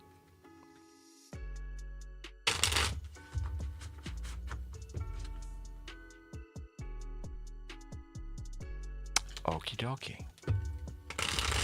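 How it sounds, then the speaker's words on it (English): Tarot cards are shuffled in several brisk bursts of riffling and flapping, close up, separated by pauses while a person talks. "Shuffle time is here."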